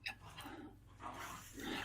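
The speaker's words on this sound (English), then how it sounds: "The dogs are going crazy" Dogs pant and whimper faintly in a room, with a soft growl or bark mixed into steady low background hum, no clear speech over it.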